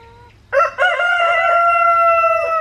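Backyard chickens and a rooster fuss close by. A short cluck gives way to a loud, sustained crow that holds steady for about two seconds, with no one speaking.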